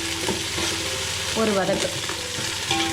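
Food for chicken biryani, with mint and coriander, sizzles and fries in a hot pan while a utensil stirs and scrapes through it, with a brief spoken word in Tamil near the start.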